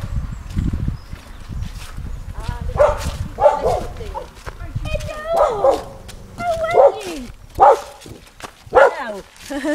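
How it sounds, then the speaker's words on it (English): Dogs bark, yip and whimper outdoors in a series of sharp, fairly close bursts, with footsteps and people talking underneath. "you can just barely see this dog kind of barking"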